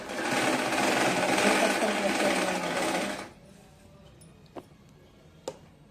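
Sewing machine stitching a blouse runs loud and steady for about three seconds, then stops, leaving a quiet room with two brief sharp clicks.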